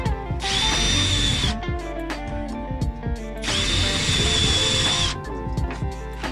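Power drill driving screws into wall cladding during a mobile renovation, two loud whining bursts of about a second each, separated by pauses filled with knocks and handling clatter, close by and with no talking.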